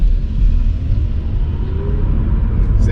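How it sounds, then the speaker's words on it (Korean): A new Chevrolet Bolt EV electric car with 204 horsepower accelerates, giving a steady low road rumble and tire noise from inside the cabin, with no clear engine note and no talking. "가속해 볼게요."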